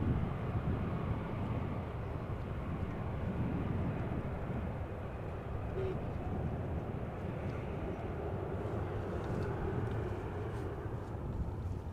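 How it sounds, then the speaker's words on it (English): A departing airliner on runway 24 at Amsterdam Schiphol produces a loud, sustained low jet roar that stays fairly constant throughout, heard from a distance outdoors with faint wind noise. "And another departure from runway 24."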